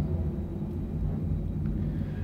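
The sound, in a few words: T-38 jet planes flying overhead near NASA Johnson Space Center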